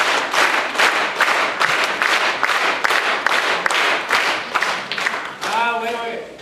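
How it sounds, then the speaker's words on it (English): Audience clapping in time at a middle school spring band concert: a large crowd claps in a fairly steady rhythmic pulse, loud and close, with a voice speaking briefly at the end. "All you need to do is clap in time"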